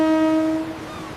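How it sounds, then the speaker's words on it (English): A ship's horn gives one loud, steady tonal honk that fades over about a second. "The ship goes"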